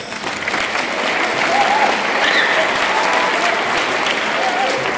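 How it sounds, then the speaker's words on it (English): Applause at a school awards ceremony swells up within the first moment and continues as a full, even clatter of many hands, with a few whoops and faint voices riding over it. "Round of applause for those guys."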